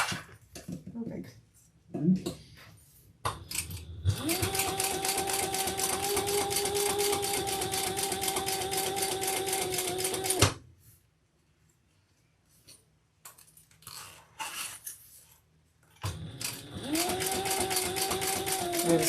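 A sewing machine top stitches a leather crossbody wristlet bag in two long, steady whirring runs, loud and close, with short pauses and handling noise between them.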